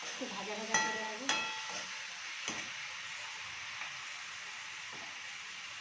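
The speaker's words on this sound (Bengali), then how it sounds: "একটু ভাজা ভাজা করে নেবো" Chilli chicken with tomato sauce fries in a pan, a soft, even sizzle after a few sharp metallic knocks and a brief tonal clang at the start.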